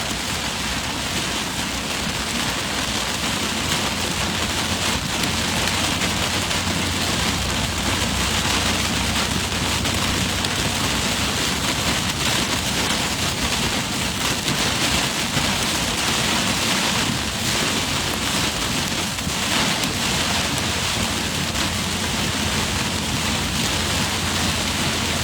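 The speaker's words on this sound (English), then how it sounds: "Oh yeah, starting to get some hail." Heavy hail and rain pound down without pause during a storm chase, a dense, loud, constant roar close around the listener with no voices.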